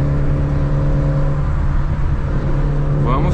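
A VW Saveiro pickup with a 1.6 MSI engine drives along at about 80 km/h, its steady engine drone and road rumble loud and constant from inside the cabin.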